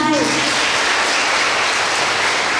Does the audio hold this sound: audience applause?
yes